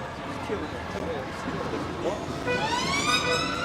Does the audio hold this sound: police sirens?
yes